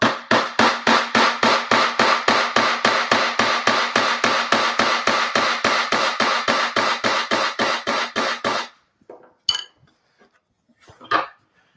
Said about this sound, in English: And hammer down and bring it out on the inside there.